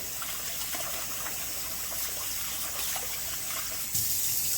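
Tap water runs steadily over chicken gizzards being rinsed in a kitchen, a continuous close gush with faint splashing that swells a little louder near the end.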